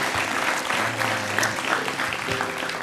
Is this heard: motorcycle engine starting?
no